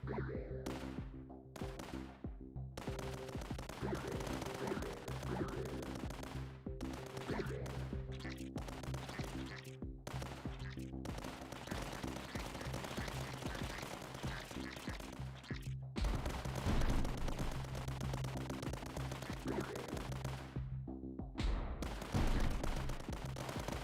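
Light mortar fire in the strategy game Tower Dominion, a rapid string of sharp booming shots and bursts repeating over a droning game background, with brief voice chat mixed in.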